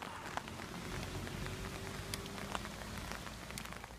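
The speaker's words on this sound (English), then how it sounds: "I guess at least it's not trying to rain. It's trying to hail." Rain or hail comes down in dark, windy weather on the Camino de Santiago near Figeac, a quiet steady patter broken by scattered sharper taps of drops or stones.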